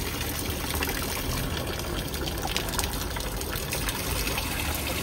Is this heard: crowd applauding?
no